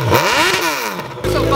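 A motorcycle engine revs up loud and close, its pitch sweeping up and down in quick surges before dropping into a steady rumbling idle.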